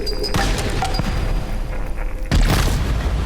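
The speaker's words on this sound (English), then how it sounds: "we'll use our frag here to blow up the little catalyst" In a video game, a frag grenade blows up a catalyst with a single loud, deep boom partway through, after a stretch of quieter rustling and ambient game noise.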